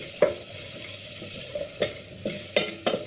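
Chicken gizzards are stirred in a pan. A utensil scrapes and knocks against the metal in about six short, uneven strokes over a faint, low sizzle, close by and with no voices.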